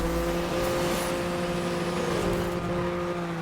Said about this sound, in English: you can very clearly hear the engine